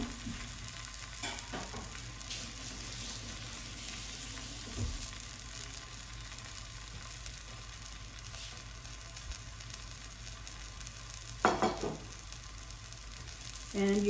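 Steady sizzling of eggplant frying in a pan, a constant crackling hiss with a few louder clatters of utensils near the end.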